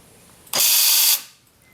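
Electric door lock actuator from a 1994–98 Honda Accord, driven on the bench, gives a brief harsh whirring buzz of about half a second that ends sharply, heard close and alone.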